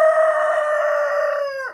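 A rooster among chickens in a garden crows once, loud and close, a sustained cock-a-doodle-doo lasting under two seconds with little background.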